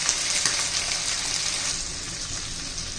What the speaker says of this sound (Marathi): छान असं आपण परतून घेणार आहोत